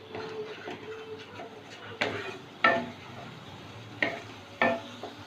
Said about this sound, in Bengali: আর মশলাটা খুব ভালো করে কষিয়ে নেব।